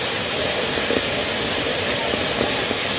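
A leaking water line gushes water in a loud, constant broadband hiss and rush, steady throughout with faint voices in the background.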